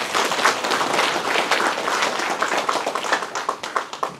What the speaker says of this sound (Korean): 우리 깻잎 농가들한테 큰 박수 좀 한번 쳐주세요.